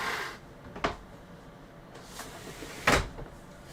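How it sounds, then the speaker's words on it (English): A window in a warm room is pushed open, a few separate soft clunks and scrapes spaced over several seconds, faint and close, with quiet room noise between them. "I'm actually gonna open a window."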